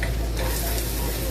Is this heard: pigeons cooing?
no